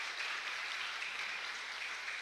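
A congregation at a Catholic Mass at the Chapel of Santa Ana y San Joaquín applauds its grandparents, a steady, dense wash of clapping that fills the room evenly for a couple of seconds, fairly soft and with no voices on top.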